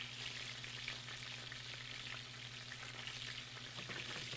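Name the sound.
butter and orange marmalade bubbling in a pan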